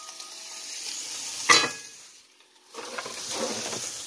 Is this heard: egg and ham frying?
yes